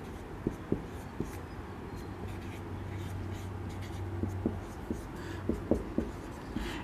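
A pen scratches out maths by hand on paper in soft, irregular strokes and taps, close by, over a low background hum.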